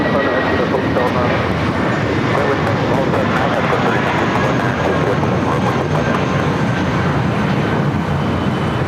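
Airliner landing on runway 25 left at LAX, a loud, unbroken jet roar with a thin high whine riding over it, steady for the whole stretch.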